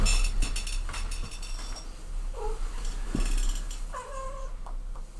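A house cat purrs close by with a low, steady rumble, broken by a couple of short meow-like chirps and a light clink.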